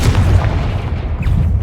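A Confringo fire spell explodes in the video game Hogwarts Legacy, a single short, loud, deep boom with a rumbling tail.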